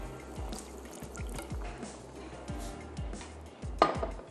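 Water poured into a pan of sweet chili sauce, soft dripping and splashing with a rhythmic knocking underneath and a brief louder splash near the end, quiet overall.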